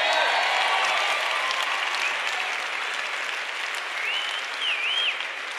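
A church congregation at a French Saturday-evening gathering applauds steadily and densely for several seconds, the clapping filling the space at an even level, with a few faint voices and a brief whistle-like tone near the end.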